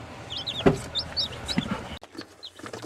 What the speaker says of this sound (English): welcome home, chickens